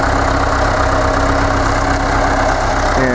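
A tractor fitted with a front loader idles steadily at close range, its low engine drone constant and loud throughout, with a slight shift in pitch near the end.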